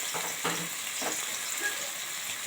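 A garlic clove fries in a spoonful of corn oil with a continuous, even sizzle close by, and faint low knocks underneath.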